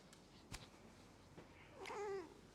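A cat in a home kitchen gives one short, wavering meow near the end, preceded by a few faint soft knocks in a quiet room.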